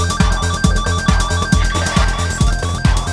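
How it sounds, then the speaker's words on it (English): Electronic sound effect from a Roland SH-1000 synthesizer, Roland's first synthesizer: a loud, dense, pulsing synth texture with a steady rhythmic low thump roughly every half second under bright warbling tones. "So that was a Roland SH1000, actually the first synthesizer ever made by Roland, and it was used to record all the sound effects in this."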